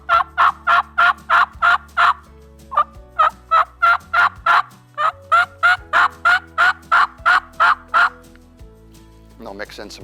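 Rhythmic runs of sharp, two-note turkey hen yelps imitated on a mouth call, loud and close, in steady series with brief pauses and no talking.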